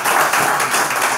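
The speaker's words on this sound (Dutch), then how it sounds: "Dames en heren, geef hem een applaus." A café hall audience applauds at an evening event, a dense, steady burst of clapping held at an even level for just over a second.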